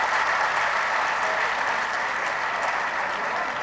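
Dense, steady audience applause at an Urdu poetry reading at the Faisalabad Literary Festival, a continuous wash of clapping from a large crowd with no break.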